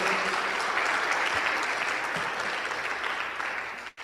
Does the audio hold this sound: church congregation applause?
yes